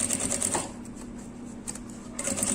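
A home sewing machine running a topstitch seam with a longer stitch length while sewing a small fabric essential-oil holder, its motor whirring steadily at close range with a few brief pauses and restarts.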